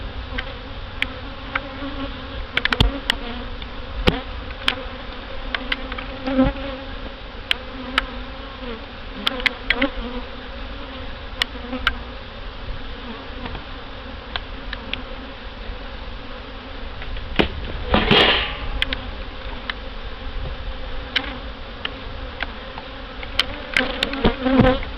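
Honey bees buzz around an open hive during a mid-July inspection, a steady close drone with swelling passes as individual bees fly near, and a few brief handling knocks along the way.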